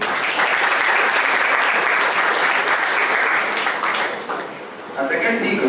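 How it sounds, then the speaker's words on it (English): Audience applause fills the room after a speaker is introduced at a tech talk, dense and sustained clapping that dips briefly near the end before swelling again, with no voices. "Let's give him a big round of applause"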